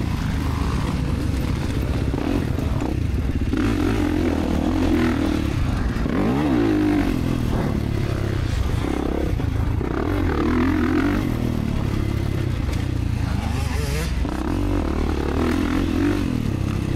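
A 2024 Kawasaki KX450 and other motocross bikes ride a practice track at Moto541, engines droning and revving continuously with rising and falling pitch as bikes pass, loud and constant with wind buffeting.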